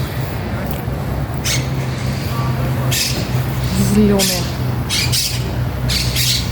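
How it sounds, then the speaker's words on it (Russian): Harsh squawks of green parrots in palm trees in Rome ring out now and then over steady outdoor background noise and a low hum, with a brief spoken word mixed in. "А тут попугаи кричат на пальмах."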